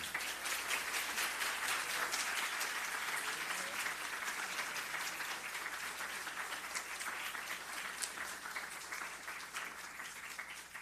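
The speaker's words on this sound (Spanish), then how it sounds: "lo despedimos con un fuerte aplauso" Applause at the close of an evening talk on global commerce, a full audience clapping steadily and densely for about ten seconds and fading slightly toward the end.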